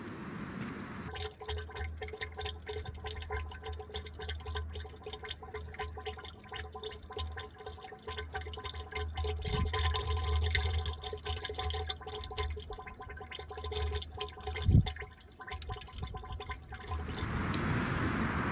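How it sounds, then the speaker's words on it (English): A steady gurgling, bubbling of air in a 1975 Autocar truck's radiator with the truck off, a low hum beneath it, continuous and fairly close, with occasional louder bloops. "Getting air bubbles in the radiator when the truck is off."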